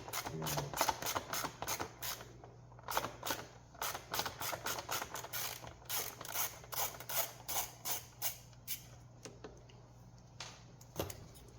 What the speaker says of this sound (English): So let's get this here, undo this upper bolt